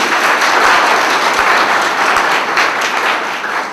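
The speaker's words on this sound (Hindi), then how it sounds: "उनके लिए जोरदार तालियां बजाएं।" An audience at a women's empowerment panel discussion breaks into loud, sustained clapping for the organizers, a thick crowd roar of hands with no voices over it.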